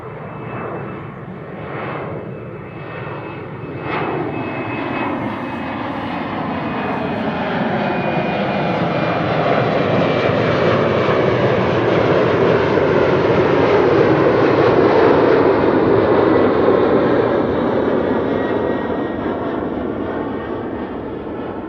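A KLM airliner at Amsterdam Schiphol approaches with a steady jet roar that swells from a moderate level to loud and then eases slightly, with a whining tone above it, continuous and with no voices.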